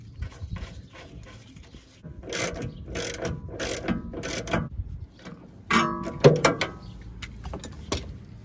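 Ratchet wrench with socket turning a bolt on a car's front suspension, a run of quick clicking strokes in bursts, fairly close, with a sharper metallic clatter near the end.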